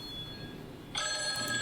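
A telephone bell suddenly starts ringing partway through, a bright, steady, trilling ring that continues to the end after a quiet, faintly humming room at a live chess tournament broadcast.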